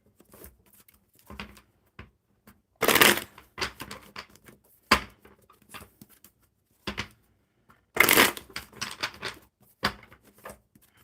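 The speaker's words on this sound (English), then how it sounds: "One more good shuffle." Playing cards are shuffled in several short bursts, crisp riffling rattles separated by quiet pauses and small handling clicks, close and fairly loud.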